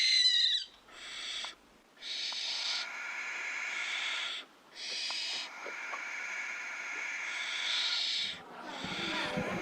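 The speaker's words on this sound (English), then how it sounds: "Pepsi the barn owl and Bug the spectacled owl, both here from the wildlife park" Captive barn owl and spectacled owl at a wildlife trust workshop, giving repeated loud, hissing screeches in long bursts with short gaps, close by and without talk.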